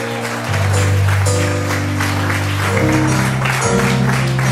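Congregation clapping during a Spanish-language church service, the applause blended with sustained organ or keyboard chords and music throughout.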